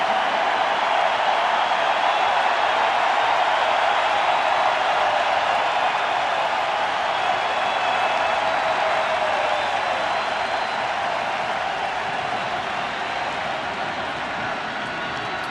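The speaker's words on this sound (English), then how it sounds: "the crowd is finally in full throat." Baseball crowd at World Series Game 7 between the Cubs and Indians, a dense, steady roar of cheering that holds loud and unbroken throughout, with no clear voices standing out.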